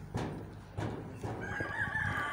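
Chickens and a rooster in a garden give a few clucks and short calls at moderate distance over low background noise, with no clear talk.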